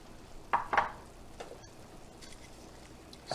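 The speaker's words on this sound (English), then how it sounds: "Stir it up." Food being stirred in a pot as ingredients are mixed in, heard as two soft scraping stir strokes early on, then quiet faint kitchen background.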